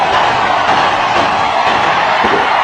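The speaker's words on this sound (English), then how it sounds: "And the crowd are going wild." Dense, loud stadium crowd roaring and cheering at a cricket match between India and Australia after a no ball, a continuous wash of voices sustained throughout.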